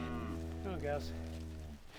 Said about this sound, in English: Aberdeen Angus suckler cows, to keep them out during the winter